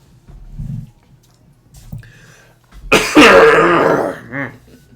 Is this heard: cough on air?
yes